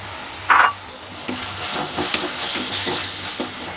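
Onion, carrot, tomato, ginger, garlic and minced meat frying in a pan for spicy masala macaroni, a steady close sizzle with a sharp hiss burst early on and light stirring scrapes repeating throughout, no voices.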